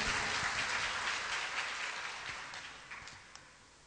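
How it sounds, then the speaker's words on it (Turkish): Steady applause from a crowd, a dense wash of clapping that slowly fades toward the end. "kocaman alkışlar rica ediyorum"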